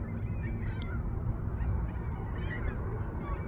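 Distant geese honk faintly over a Walmart parking lot during the 2024 total solar eclipse, a few scattered calls against a steady low outdoor rumble.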